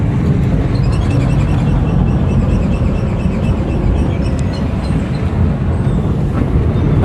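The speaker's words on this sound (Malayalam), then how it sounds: "വണ്ടി നമ്മൾ ബ്രേക്ക് ചെയ്യുന്ന സമയത്ത് ലെഫ്റ്റ് സൈഡിൽ നിന്നൊരു സൗണ്ട് ഞാൻ കേൾപ്പിച്ചു തരാം" Nissan Sunny braking with a rattling, clattering noise from the left wheel, heard as steady loud road and cabin rumble from inside the moving car with faint irregular knocks through the stop.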